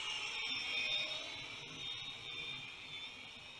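Small U42WH Petrel quadcopter drone with its motors at full throttle, a thin high-pitched whine that holds steady with slight wavering, faint and distant, no voices.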